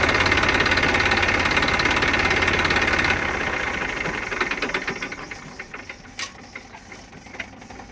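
A tractor engine idles with a steady, knocking rumble for about three seconds, then fades and cuts out, leaving scattered faint clicks and knocks.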